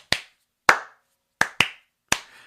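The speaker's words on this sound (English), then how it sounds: "Yeah, there's double hand claps there." Double hand claps from a song, five crisp, close claps standing alone in silence, two of them bunched into a quick pair, each with a short ringing decay.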